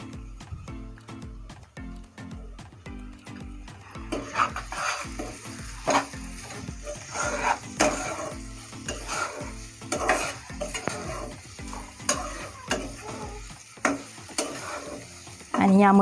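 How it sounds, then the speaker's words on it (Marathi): Spices are stirred into beans masala in a pan, with rhythmic spoon scrapes over a low sizzle that grows denser and louder halfway through, then stops abruptly before a brief clunk. "आता हे सगळे मसाले आपल्याला मिक्स करून घ्यायचे।"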